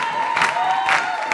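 A studio audience cheers and claps loudly and continuously, with a dense roar of voices and a couple of swelling whoops.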